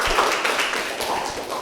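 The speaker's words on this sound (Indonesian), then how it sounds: "sekali lagi tepuk tangan untuk kalian semua" Students in a classroom clap together, a steady patter of many hands at moderate distance, continuous for under two seconds with no talk over it.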